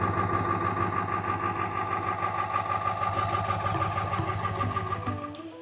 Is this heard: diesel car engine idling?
yes